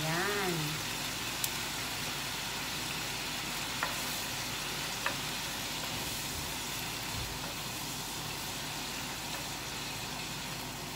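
Ox tongue simmering in red wine sauce in a pan, a steady low bubbling sizzle that runs the whole time, with a few faint clinks and taps along the way.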